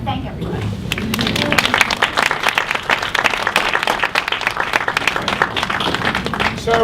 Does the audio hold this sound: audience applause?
yes